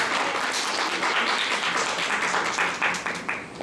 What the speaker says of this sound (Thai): ขอเสียงปรบมือให้กับทางทีมงานสื่อสารระหว่าง